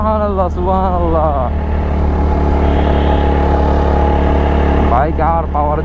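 A TVS Apache RTR 4V motorcycle engine drones steadily and loudly as it labors up a climb, its tone strained and lacking power, with a rider's voice briefly at the start and end.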